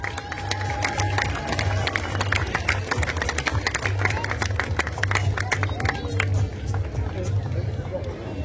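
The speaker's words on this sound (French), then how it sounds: "On l'applaudit s'il vous plaît." A street crowd at a carnival in Courchelettes applauds and cheers as a giant figure is presented, steady dense clapping running throughout over a constant low hum, with a loudspeaker voice talking over it.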